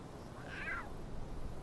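A lion cub gives a single short, high, meow-like call, faint against a steady outdoor background noise.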